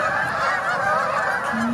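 A flock of geese honking continuously outdoors, loud and dense with overlapping calls throughout.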